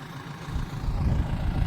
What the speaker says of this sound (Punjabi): ਮਸ਼ੀਨ ਆ ਗਈ ਬਾਈ ਲੋਡਰ ਵਾਲੀ ਤੇ ਭਰੇਗੀ ਮਾਲ